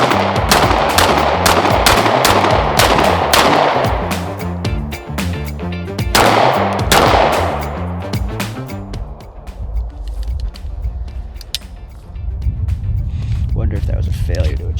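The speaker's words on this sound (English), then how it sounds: "which is where I'm gonna shoot a bunch of these and see if I run into any issues" A Lone Wolf Dusk 19R pistol fires a mix of Federal HST and Hornady rounds at a range, with rapid strings of loud, close shots, brief pauses between strings, and someone talking over parts of the firing.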